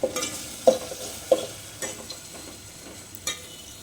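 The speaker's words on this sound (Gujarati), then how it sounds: "તો આપણે ટમેટું સરસ એવું સતરાઈ ગયું છે" Soft sizzling of tomato sautéing in a pan with a few scraping stirs of a spoon, moderately close, no talking.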